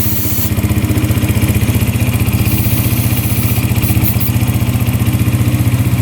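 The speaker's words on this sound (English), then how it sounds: "Consistently idling." Cheap secondhand quad (ATV) engine idling steadily up close, a loud, regular putter with an even chugging rhythm throughout.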